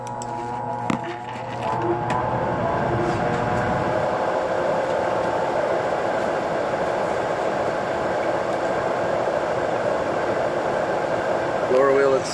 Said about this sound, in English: Blower kicks on.